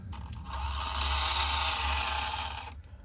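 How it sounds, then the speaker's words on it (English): A small RC rock crawler's pinion gears whine in a steady, fairly faint mechanical drone lasting a few seconds, then cut off; no voices. "I've tried 3 pinion gears on this thing,"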